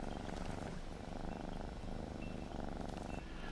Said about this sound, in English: And when you do this, it purrs.